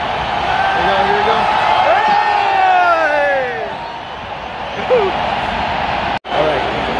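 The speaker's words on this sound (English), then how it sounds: "As you can hear, all the booing" A large football stadium crowd roars loudly and continuously during a Mexico versus Argentina match right after Argentina scores, a dense sustained mass of voices with shouts rising above it, then a sudden brief dropout near the end.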